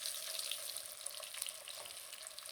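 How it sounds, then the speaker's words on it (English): Chicken sizzles and spatters in hot butter in a pan for a south Louisiana chicken and okra dish. The frying makes a steady, fairly quiet hiss with scattered small pops and no talk. "when the water drips out of your meat, it's going to splatter in that hot butter."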